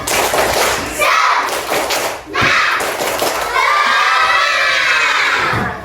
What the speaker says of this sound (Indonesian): Wah, mulai tepuk semangat